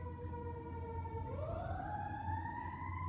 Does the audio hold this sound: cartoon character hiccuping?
no